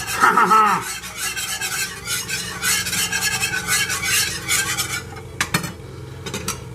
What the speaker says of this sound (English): you want to stir that up until all your lumps are out of the roux